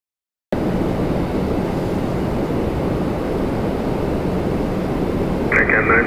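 A Dornier 328 turboprop departs with a steady, broadband engine roar that starts suddenly and holds at an even level throughout, with a brief higher-pitched tone near the end.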